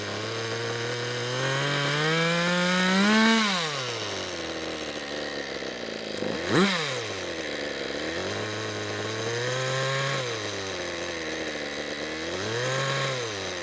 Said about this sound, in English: you can actually hear the change in tone from the exhaust noise